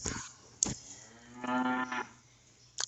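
Cattle: a cow lets out a low, drawn-out moo at moderate distance near a feed barn, framed by a few brief knocks and clatters.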